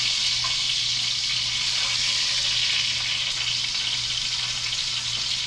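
Pork tenderloin sizzles in hot oil in a pan, a steady, dense hiss that fills the whole stretch without pause and with no talking over it.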